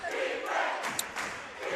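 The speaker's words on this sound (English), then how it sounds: "Crowd chanting defense." A high school basketball crowd in a Nettleton vs Paragould game chanting defense in the fourth quarter, a short burst of rhythmic massed shouting filling a gym.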